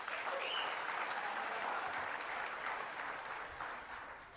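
An audience at the Cherokee Speaker Summit applauds a Cherokee Nation official with steady, dense clapping that fills the room at moderate loudness and eases off slightly near the end.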